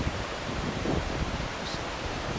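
Waterfall at Malham Scar pouring steadily, a constant broadband rush of falling water heard up close with no voices.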